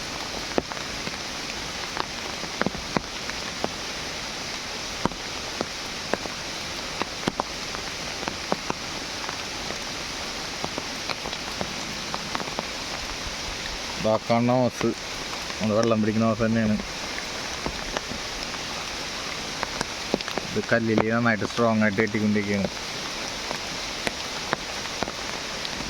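Heavy rain pours steadily in a forest with a constant dense hiss on leaves and ground, loud throughout, while someone talks over it in two short stretches.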